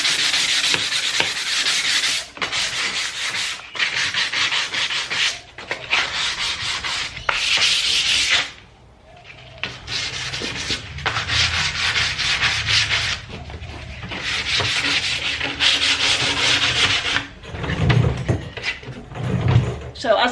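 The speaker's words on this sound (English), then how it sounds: "then I'm going to scuff sand it too" Steady scuff sanding on a wooden corner TV unit during a furniture makeover, a continuous rasping rub in long strokes with brief pauses, close and fairly loud, with occasional low thumps.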